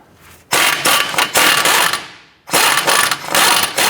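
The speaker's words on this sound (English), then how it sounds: "Using an 18mm deep socket, we're going to go ahead and loosen our tie rod and nut." A ratchet fitted with an 18mm deep socket loosens a tie rod nut on a 2006-2013 Chevrolet Impala, giving two loud, close bursts of rapid metallic clicking separated by a short pause, with no talk.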